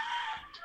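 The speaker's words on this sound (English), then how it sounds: "because of the roosters, they're like really noisy the whole day" Roosters at a home with bamboo blinds crow in a sustained, fairly faint call that tails off, with a soft cluck near the end and no talk.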